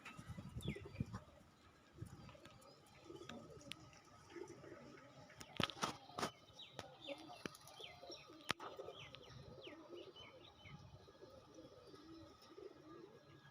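Racing pigeons in their coop coo softly and repeatedly in low, rolling calls, with scattered chirps, wing rustles and a few sharp knocks nearby.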